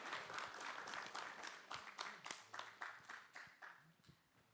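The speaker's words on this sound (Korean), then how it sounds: "우리 믿음 안에서 잘 키우도록 격려의 뜻을 담아 박수하겠습니다." Church congregation at a Korean Presbyterian Sunday service claps in encouragement, a steady patter of many hands that gradually thins and fades over a few seconds, fairly soft and distant.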